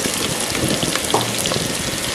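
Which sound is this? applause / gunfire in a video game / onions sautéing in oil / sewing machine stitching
onions sautéing in oil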